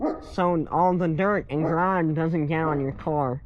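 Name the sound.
dog barking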